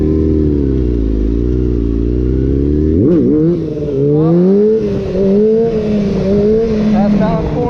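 A motorcycle engine revs during stunt riding practice in Arkansas, held at a steady loud drone, then blipped and wound up and down in rising and falling throttle sweeps, close and dominant throughout.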